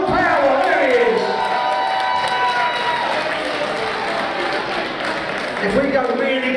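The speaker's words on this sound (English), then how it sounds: "Let's give him a big round of applause." Boxing crowd at a Pryzm club night in Kingston cheering and clapping for the winner, a loud dense roar of voices and applause that holds steady throughout, with shouts and talk mixed in.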